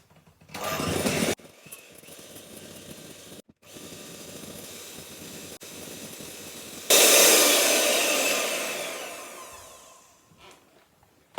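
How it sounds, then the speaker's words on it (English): An electric hand mixer beats softened salted butter in a bowl, whirring in bursts that stop and start, with a louder high-speed run near the end before winding down, with no talking. "So I'm just going to beat this up until it's soft and fluffy."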